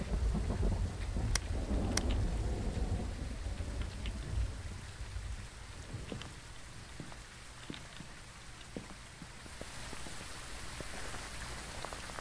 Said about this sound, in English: And the rain is loud as fuck.